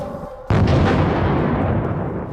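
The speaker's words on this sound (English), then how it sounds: "The US-made FGM-148 Javelin is one of the premier portable anti-tank missile systems in the world." An FGM-148 Javelin portable anti-tank missile fires with one sudden loud blast, then a sustained roaring rush that fades slowly over about two seconds.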